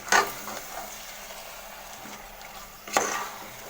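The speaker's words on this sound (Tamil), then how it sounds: "இதை வதக்கிங்க எண்ணெயில்." Marinated chicken sautéing in oil for biryani, a close sizzle with stirring scrapes at the start and again near the end, fading to a low frying hiss between them.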